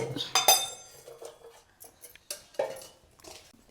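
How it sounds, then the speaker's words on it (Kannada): A pressure cooker lifted off a gas stove and set down, with several metallic clanks and clinks of cookware, close and sharp, in a domestic kitchen. "ಆಚೆ ಕಡೆ ಕುಕ್ಕರ್ ತೆಗೆದು ಗ್ಯಾಸಿಂದ ಅಲ್ಲಿ ಇಟ್ಬಿಡು"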